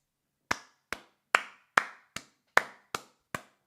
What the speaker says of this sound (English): Thank you so much for those claps.